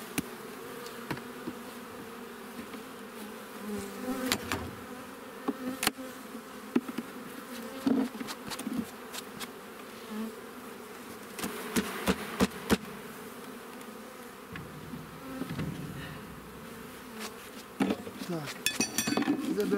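Continuous buzzing of a honey bee colony in an apiary hive, a steady low hum with occasional clicks and knocks of frames being handled nearby.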